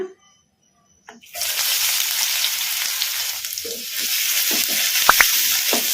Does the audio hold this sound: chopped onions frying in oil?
yes